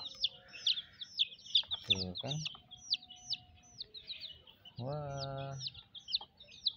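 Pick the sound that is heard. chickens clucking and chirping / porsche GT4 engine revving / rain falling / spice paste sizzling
chickens clucking and chirping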